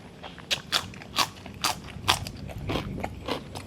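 Crispy tofu is bitten and chewed up close, with a series of sharp crunches in uneven rhythm followed by softer chewing crackles, and no voices.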